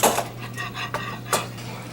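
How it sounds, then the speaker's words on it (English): A knife scrapes and clinks against a plate or pan while carving a roasted Thanksgiving turkey, giving a few sharp close metallic taps over a steady low hum. "As I put my knife through it, you can see the juices come out."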